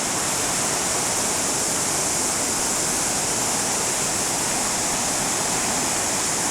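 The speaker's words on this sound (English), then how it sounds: "this is currents, dangerous currents, when there is something from below coming up and going everywhere" Broad, steady rushing of water from currents welling up and spreading across a geothermal lake at Rotorua, New Zealand, a continuous close wash of churning surface noise with no voices.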